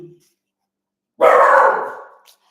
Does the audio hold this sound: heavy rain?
no